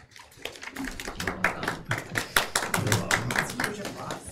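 Applause at a school board meeting: a small group claps steadily for a few seconds, moderately close, with voices mixed in.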